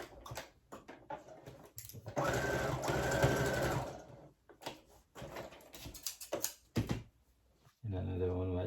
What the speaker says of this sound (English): you're gonna do a stitch here and a stitch all the way here to reinforce the fabric